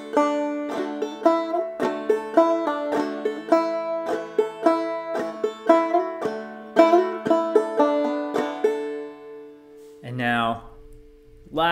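Clawhammer banjo playing Logan County Blues, with bright plucked notes in a steady rhythm and hammer-ons, fading on a held final note before a short spoken sound.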